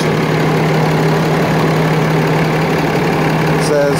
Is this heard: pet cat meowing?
no